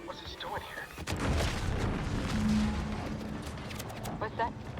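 A large explosion in The Outer Worlds 2 rumbles up about a second in, then rolls on as a long, heavy roar of debris and low booms, with a few scattered sharper cracks near the end.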